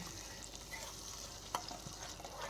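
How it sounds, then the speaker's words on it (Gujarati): Potato curry simmers gently in a pan with soft bubbling and a quiet stirring scrape, plus one small clink partway through, all fairly faint with no voice. "ને થોડુંક હજી આને ઉકળવા દઈશું આપણે."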